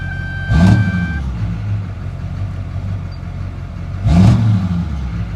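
A lifted, tuned 2003 LB7 Duramax diesel truck with full exhaust on 35-inch tires runs loudly and steadily, with two short revving swells about four seconds apart and a thin tone early on.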